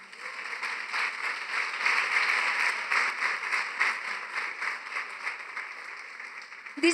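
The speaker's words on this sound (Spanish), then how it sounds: "¿Cuánto le dan un aplauso al Señor?" A church congregation applauds together, a sustained wash of many hands clapping at a moderate distance, fairly soft and steady, swelling slightly in the middle and easing off toward the end.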